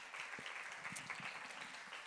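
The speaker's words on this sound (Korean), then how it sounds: "우리 하나님께 이 부활하신 하나님께 영광의 박수를 올립시다" Church congregation clapping for God at an Easter service, a steady wash of hand claps that sounds quiet and distant, with no voices over it.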